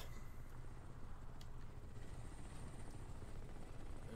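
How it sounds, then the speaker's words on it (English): Helicopter in the video game Crysis, a steady low rotor thump and engine rumble that holds faint and continuous throughout without talk. "there's a helicopter"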